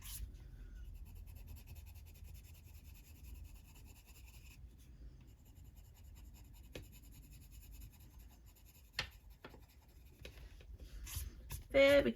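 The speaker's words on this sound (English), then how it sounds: "I'll use that white pencil again to blend in the centre" A white colouring pencil blends colour on a paper colouring page with faint, soft scratching and rubbing strokes that continue for several seconds, with a few louder scrapes near the end.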